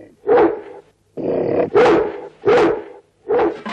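A dog's barks come in four loud, separate bursts with short gaps between them. The barks are close and no one speaks over them.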